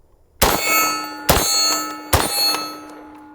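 Three sharp reports from an unsuppressed Desert Tech MDRX bullpup rifle, spaced about a second apart, each followed by a ringing metallic tail, close and loud with no talking.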